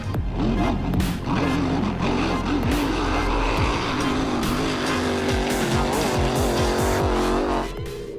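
Grand Prix hydroplane racing boats with 1,500 to 1,800 horsepower methanol-fuelled engines race at a downtown Wanganui event, making a loud, continuous roar with rising and falling pitch sweeps as several engines overlap.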